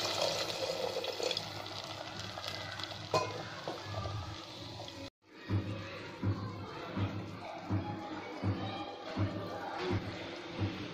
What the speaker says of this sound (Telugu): ఇప్పుడు ఇందులో కొంచెం వాటర్ వేసి బాయిల్ చేసుకుందాం